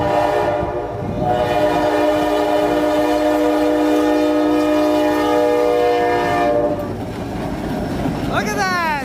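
ELS 400 locomotive rolling south through Iron Mountain, sounding a loud sustained multi-tone horn over the heavy rumble of the passing train, with wheels clattering as the horn cuts off near the end.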